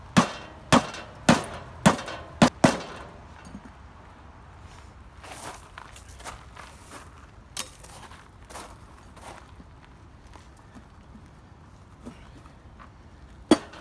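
A mower tire on an eXmark Metro is struck from underneath to break the bead, giving about six sharp, evenly spaced metallic thumps, then scattered softer knocks and handling sounds, with one last hit at the end.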